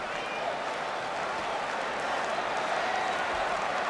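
A large wrestling arena crowd at SummerSlam 2005 during Undertaker versus Randy Orton, a steady, dense roar and murmur filling the space without a break, with faint scattered claps mixed into the continuous rumble.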